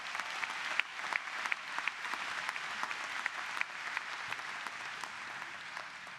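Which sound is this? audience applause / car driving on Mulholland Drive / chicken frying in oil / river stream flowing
audience applause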